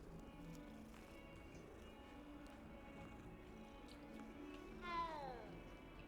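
A cat in the video game Hogwarts Legacy gives a single clear meow near the end, rising out of a steady bed of game ambience.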